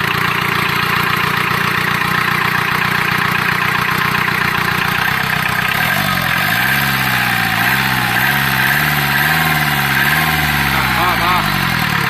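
A used rice-mill truck engine with a water pump idles steadily, then revs up around the midpoint, its pitch rising and falling through several throttle swells. A voice talks over it.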